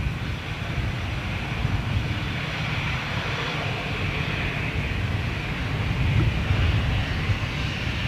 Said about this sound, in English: 747 CF6 powered Virgin, here we go.